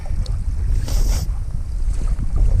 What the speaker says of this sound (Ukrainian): Пішов вітер.